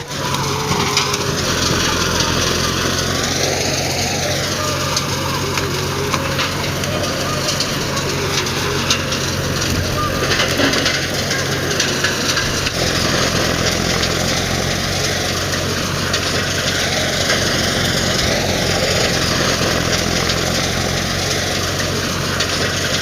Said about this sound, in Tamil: இந்த மிஷினுக்கிட்ட கரெக்டாக ஒரு ஒரு மணி நேரம் நின்றோம்னா சீக்கிரம் நம்மளும் செகுடாக போகும் போலாங்க அவ்வளோ சவுண்டு